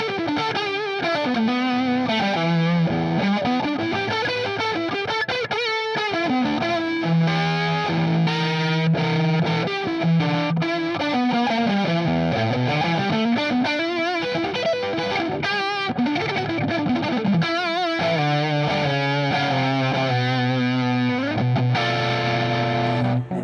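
Electric guitar played through a fuzz pedal into a Suhr Hombre amplifier, thick fuzz distortion, sustained buzzing chords and bending notes, loud and continuous with no talking.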